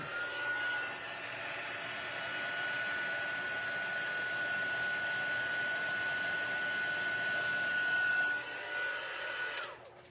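A heat gun runs steadily for heat embossing a stamped card, giving a continuous airy whoosh with a faint high whine that holds for most of the stretch and cuts off near the end, with no talking.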